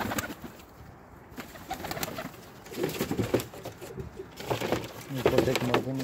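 Pakistani high-flying baby pigeons in a loft coo in low, rolling bursts that grow louder toward the end, with someone talking over them in the background.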